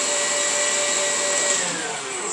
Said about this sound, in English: This takes about probably 15 minutes to whip it up into the cream.